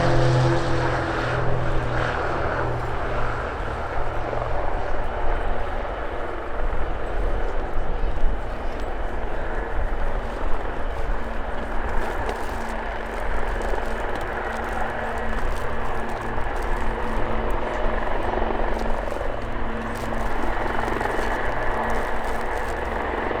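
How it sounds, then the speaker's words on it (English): Four Extra EA330LX unlimited aerobatic aircraft of the Royal Jordanian Falcons rolling for takeoff at RIAT 2024, a loud, steady propeller engine roar that holds throughout, with a commentator talking over it. "rolling for takeoff, getting ready to position the 4 extra EA330LX unlimited aerobatic aircraft of the Royal Jordanian Falcons"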